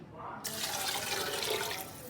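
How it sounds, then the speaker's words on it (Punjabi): Hot water poured into a cooking pot of vegetables, a steady broadband splashing rush that starts abruptly after a brief quieter moment and continues fairly loud and close to the end. "ਗਰਮ ਪਾਣੀ ਦੇਖੋ ਜੀ ਇਹ ਗਰਮ ਪਾਣੀ ਕਰਿਆ ਹੋਵੇ ਨਾ ਤੇ ਬਹੁਤ ਛੇਤੀ ਸਬਜ਼ੀ ਬਣਦੀ ਹੈ"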